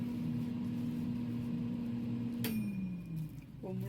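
An air fryer cooking javarisi vada hums with a steady fan drone, then a sharp click stops the tone, which winds down before a brief clink.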